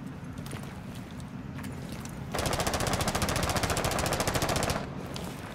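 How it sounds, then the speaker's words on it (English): Rapid automatic gunfire in the tactical shooter Rainbow Six Siege, a sustained close burst of about two and a half seconds over a low background rumble, with no talk. "I was just shooting at a freezer randomly"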